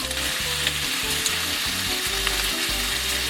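Beef chuck eye roll sizzles and fries in a pot with garlic and onion, a steady loud crackle with low bubbling beneath, running continuously without any voices.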